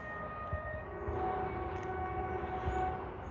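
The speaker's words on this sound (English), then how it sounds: "Can you hear the train, Lou" A train rumbles past with a steady low roar and a sustained tonal horn-like drone, loud and continuous, heard alone without talk.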